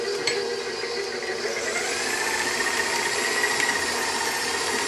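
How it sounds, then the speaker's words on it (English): Gluten-free choux pastry dough with eggs being beaten by a mixer, a steady whirring motor hum with a rising whine, continuous and close, with no talking. "Between each egg, it took about 60 to 90 seconds of mixing before I added the next"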